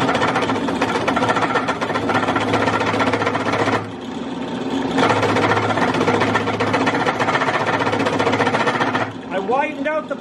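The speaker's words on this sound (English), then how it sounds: "Widened out the pilot hole to half inch." Drill widening a pilot hole to half an inch, a loud, close, droning motor whine that runs steadily, dips briefly in the middle, then resumes before stopping, with a voice heard near the end.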